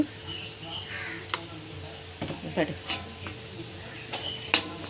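Spiced egg omelette pieces fry in a pan with garam masala, chilli powder and salt, a continuous sizzle under scattered clicks and scrapes of stirring, with faint insect chirps in the background.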